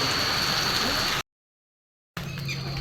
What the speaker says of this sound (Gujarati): વરસાદ પણ વધારે આવે છે